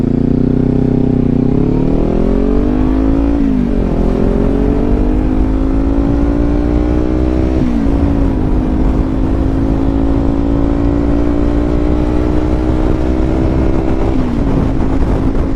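A 2018 Kawasaki Ninja 400 on a commute ride drones loudly with steady engine hum rising in pitch through the gears, a few short dips at shifts, under constant wind rush.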